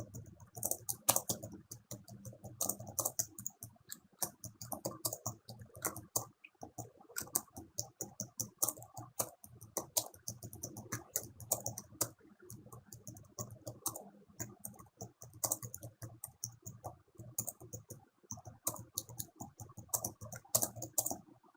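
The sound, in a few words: typing on a computer keyboard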